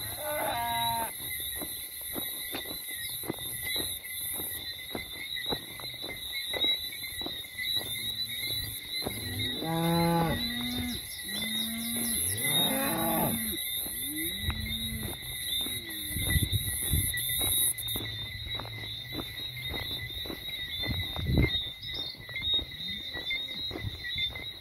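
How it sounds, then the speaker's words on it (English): Cattle in the St. Thomas countryside of Barbados give a few drawn-out calls at middle distance, set against a constant high insect drone and open outdoor air. "You can even see some cows over here."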